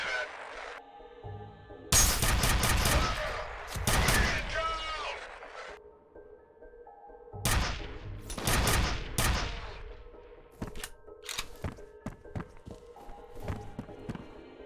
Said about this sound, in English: Who do you think comes with the idea of making a giant stapler gun?